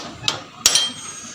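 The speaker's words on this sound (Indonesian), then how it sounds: "Oke, kita ketok lagi ya pemirsa, ketoknya sampai kendor" Hammer knocking to loosen the steering stem nut on a Honda Supra motorcycle, done with simple tools: two sharp metallic taps, close and clear, the second ringing briefly over a quiet background.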